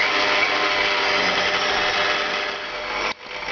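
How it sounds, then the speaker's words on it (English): A stand mixer kneads naan bread dough, its motor whirring loud and steady with a strained tone, then cutting out abruptly near the end. "The stand mixer will begin to feel the amount of force that it takes in order to stir this around"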